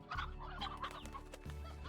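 Briar hens from the game Slime Rancher cluck in repeated short, bright bursts over a steady low game hum, with several birds sounding at once in a close, busy flurry.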